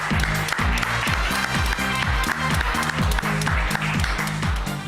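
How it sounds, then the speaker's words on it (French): A TV talent-show studio audience claps in a brisk, regular rhythm, loud and close, with steady beats and a crowd murmur beneath. "Applaudissements."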